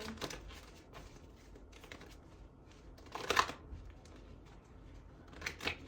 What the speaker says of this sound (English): I'm going to do 2 more shuffles and pull from the top